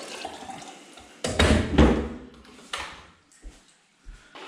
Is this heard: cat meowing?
no